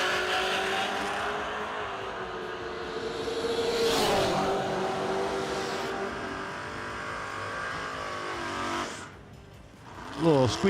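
Drag racing car at a no-delay nationals event, engine roaring loudly on the racetrack with tire squeal and rising, wavering tones, ending in a sharp burst, with an announcer talking over it.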